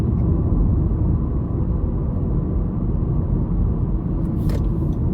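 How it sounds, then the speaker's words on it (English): A car driven by a gig delivery worker gives a steady, loud low road rumble and engine drone inside the cabin for the whole stretch, with no talking. "Driving now."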